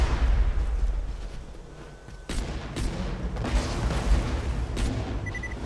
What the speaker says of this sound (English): it's creating some explosions as soon as it hits the ground.